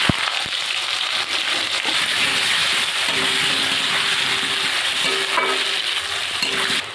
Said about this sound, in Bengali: এবার আমি আলুগুলো ভেজে নেব।